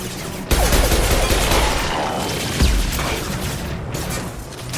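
A grenade blast in the video game Mass Effect 2, a loud boom erupting into rumbling debris and scattered gunfire, dense combat noise continuing throughout at close range.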